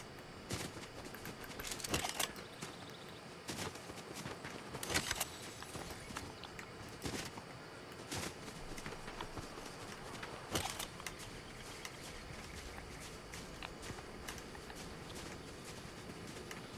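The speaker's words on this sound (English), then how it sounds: "Looks like there's firing there. I thought it was closer than that." Distant gunfire in a shooter video game, sharp scattered cracks popping at irregular intervals over a steady ambient bed, with no voices.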